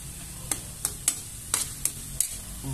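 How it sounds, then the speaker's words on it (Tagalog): Pork stirred in a pan with shrimp paste (alamang), a steady soft sizzle broken by several sharp scraping clacks of a utensil against the pan at irregular intervals. "Tapos dito na rin po siya igigisa"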